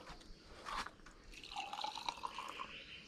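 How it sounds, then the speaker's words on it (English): Coffee poured into a cup, faint close trickling and dripping with small bubbly plinks building in the middle and continuing to the end, quiet and alone. "I'll pour the coffee for you"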